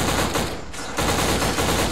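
Rapid AK rifle gunfire from a video game, played through a cheap generic Xbox controller: dense, loud bursts of shots that run almost continuously, with a brief dip near the middle.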